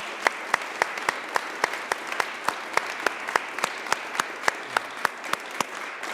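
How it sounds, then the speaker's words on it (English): Ceremony applause for a new Urban League entrepreneurship and women's business center: a crowd clapping at a moderate level, with one nearby clapper's sharp claps standing out in a steady rhythm. "Please give them all a big round of applause and congratulations."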